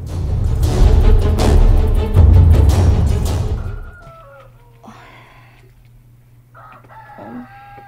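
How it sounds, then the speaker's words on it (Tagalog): A loud rooster crows close by with broad, harsh calls, then quieter crowing and clucking follow against a faint steady hum. "Nanugtugaok na ang mga manok."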